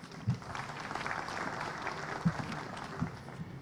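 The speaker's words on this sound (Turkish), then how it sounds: "Lütfen kendinizi alkışlayınız." Applause from an audience at a cultural gathering in Van, Turkey, a dense, steady patter of clapping throughout with a few louder bursts, moderately distant and fairly faint.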